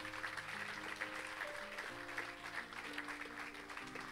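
A church congregation applauding and cheering for Jesus: steady clapping from a crowd, with organ or keyboard chords sounding underneath throughout.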